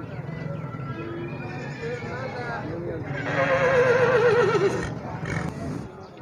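A mare at a horse market gives a loud, close, wavering neigh that rises in the middle and fades, with people talking before and around it and faint hoof clops.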